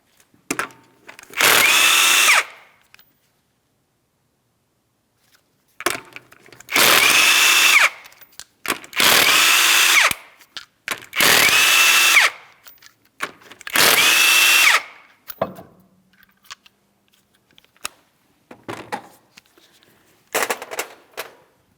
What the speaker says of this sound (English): you're going to remove all 5 of your 19mm lug nuts